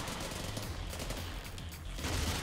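Gunfire in Totally Accurate Battlegrounds, a dense rapid burst of shots blending into a continuous loud crackle with a short dip midway.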